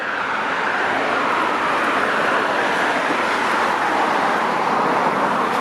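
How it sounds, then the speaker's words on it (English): Steady roadway din of trucks and cars passing on Vickers Road near Dundas Street West and The East Mall in Etobicoke, Toronto, a continuous broad rumble and hiss that holds at an even, fairly loud level with no talking. "Oh, but it's trucks."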